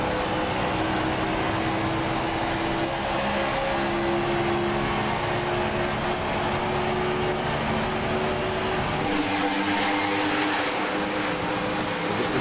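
NASCAR stock cars at a Darlington throwback race accelerating hard out of a corner, a continuous loud engine roar with layered droning tones that shift as cars stream past, steady throughout with a change near the end.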